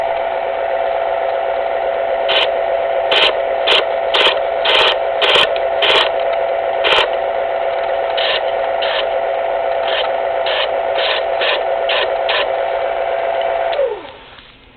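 Smith electric knife sharpener running steadily as the tip of a knife is flicked through it, a constant motor hum broken by a series of short grinding strokes, then the motor winding down at the end.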